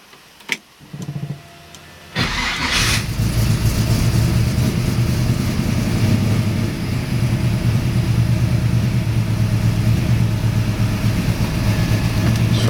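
A 1962 Chevrolet Nova II with a blueprinted 383 engine fires up after a few faint clicks and settles into a loud, steady, rumbling drive, the engine droning close and continuous.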